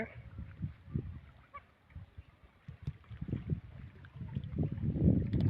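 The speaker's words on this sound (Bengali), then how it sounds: "কতকগুলো রাজহাঁস দেখেন করতোয়া নদীতে কি দৃশ্যমান দেখা যাচ্ছে" Geese honk in scattered low calls on the Karatoya River in Gaibandha, Bangladesh, some overlapping, growing louder and busier toward the end against faint outdoor noise.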